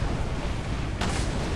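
Ship cannons firing in the naval video game Tempest during a sea battle: a continuous loud booming rumble with a sharp fresh blast about midway, no speech.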